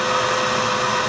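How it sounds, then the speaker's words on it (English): An outdoor pump pulls air out of a toilet bowl through the vent, giving a loud, steady, unbroken whoosh of rushing air with no speech. "the motion sensor turns on the pump, which is outside, right? It sucks out the air from the toilet bowl"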